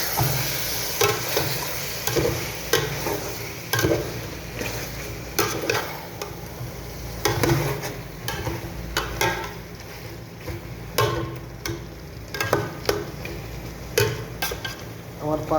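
Chicken bhuna curry is stirred in a pan, with soft sizzling under irregular scraping and clattering of a spoon against the metal, close and continuous.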